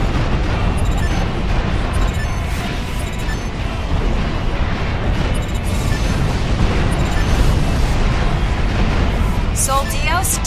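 The Sol Dios aircraft in Ace Combat blowing up, a dense, continuous roar of explosions and rumbling blasts at high volume, with game sounds layered throughout and bright crackling near the end.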